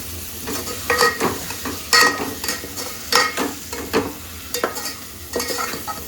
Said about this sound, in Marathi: आता हे पालक धुतलं होतं त्यामध्ये टाकते. हेल्दी राईस पालक बनवते.